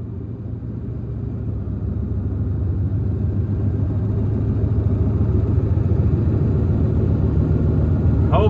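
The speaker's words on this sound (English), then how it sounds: "Hopefully you can hear me pretty good over my truck." A truck hauling grain and gravel drives along, its engine a loud, constant low rumble that holds steady for several seconds without a break.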